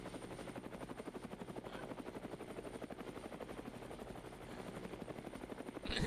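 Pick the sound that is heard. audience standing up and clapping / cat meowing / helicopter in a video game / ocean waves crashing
helicopter in a video game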